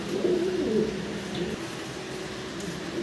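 A pair of Bombay pigeons coos softly and continuously at close range, with low throaty calls rising over a steady background hiss.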